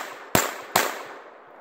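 Two sharp pistol shots crack close and loud about half a second apart on an outdoor shooting drill against the fifth target, each followed by a short decaying echo.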